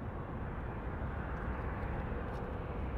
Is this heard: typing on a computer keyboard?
no